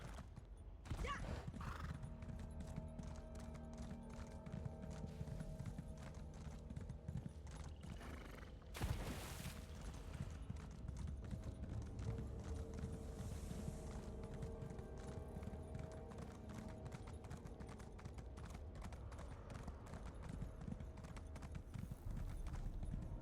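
Horse hooves clip-clop steadily at a gallop through The Elder Scrolls Online, a continuous rhythmic beat under game ambience with a brief burst of noise partway through.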